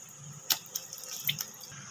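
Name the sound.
washing eggplants under running tap water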